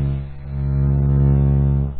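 A battery-powered vibrator hums with a steady, low electric buzz for a couple of seconds, swelling slightly in the middle; close and droning, no talking.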